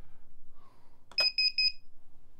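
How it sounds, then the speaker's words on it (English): An electronic speed controller for a motor emits a short series of bright, high-pitched beeps, about three or four evenly spaced tones, right after being plugged in, close and clear against a low background hum. "Sorry about the beeping,"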